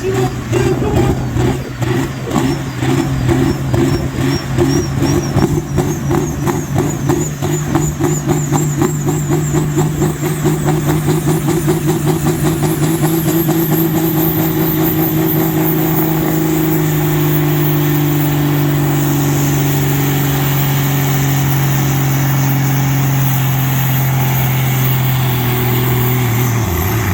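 Tractor engine at a tractor pulling event in Brechin, Scotland, revving hard and loud close by as it hauls down the track, its roar sustained throughout with a rising pitch partway along.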